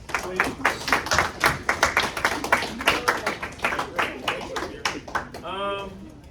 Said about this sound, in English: Give Miss Waddell a hand clap, please.